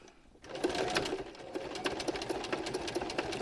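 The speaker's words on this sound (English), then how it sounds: "Right, let's sew the nose on." Sewing machine stitching a felt gnome's nose onto a gnome cushion cover, starting after a brief quiet moment and then running in a steady close, rapid mechanical chatter.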